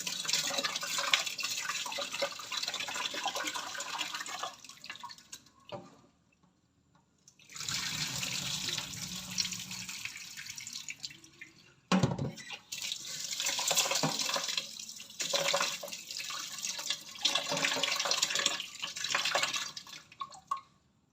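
Dishes being washed under a running tap at a home sink after a dinner of fried fish and adobong kangkong: steady splashing water with drips and clatter, pausing briefly twice before the flow resumes.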